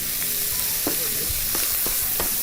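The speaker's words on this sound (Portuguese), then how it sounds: "Um pouco do alho." Garlic with onion sizzles steadily in a hot pan, a constant frying hiss with a few soft stirring clicks and scrapes, close and alone.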